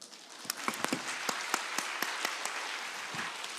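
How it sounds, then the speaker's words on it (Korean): A church congregation at a New Year revival service claps, a steady patter with sharper scattered claps standing out, moderately close and fairly quiet. "박수 한번 치고 해야 될 것 같아요"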